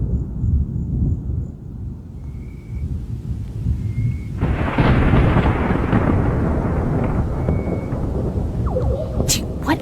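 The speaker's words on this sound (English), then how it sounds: "I have never heard thunder like that." Thunder during a Florida thunderstorm outdoors at a campsite, a low distant rumble that swells into a long rolling roar with rain noise behind it.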